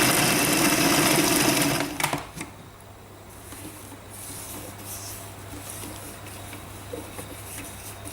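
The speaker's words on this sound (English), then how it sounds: "now we're going to mix this in the food processor for 2 minutes" Food processor blending cake batter with Dutch cocoa powder for Caprese cakes, a loud steady whirring hum for about two seconds that cuts off, followed by quieter clatter and scraping.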